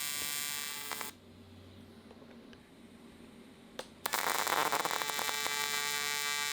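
A TIG welding arc puddles on aluminum. A steady electric buzz and hum runs for about a second, cuts out into a quiet gap, then returns louder and harsher for the final stretch.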